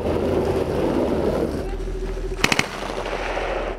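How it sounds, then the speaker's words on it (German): A Boxer armoured vehicle fires its automatic grenade launcher during cold-weather trials, a quick burst of three sharp reports over a steady engine rumble and a voice talking. "Neben den Infanteristen nimmt der Boxer den Gegner mit der Granatmaschinenwaffe unter Beschuss."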